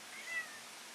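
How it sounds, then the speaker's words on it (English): A pet cat gives a single brief meow, faint and distant in the background of a quiet room, with no one talking. "You may hear my cat in the background."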